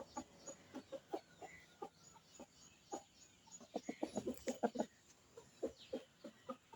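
A hen with her chicks nearby clucks repeatedly in short, uneven bursts, faint and close-up, with the calls growing busier in the middle.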